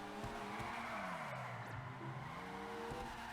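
Car in GTA 5 Online driven hard and skidding, a sustained tire squeal with a rising and falling engine drone, close and steady throughout, no talk.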